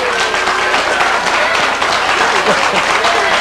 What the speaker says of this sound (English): Are you applauding that?